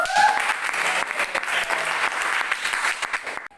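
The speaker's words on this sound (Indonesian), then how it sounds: "tepuk tangan untuk kalian semuanya ya" A classroom of students applauds after presentations in an Indonesian language lesson, a dense burst of many hands clapping close by that fills the whole stretch before cutting off abruptly, with faint voices underneath.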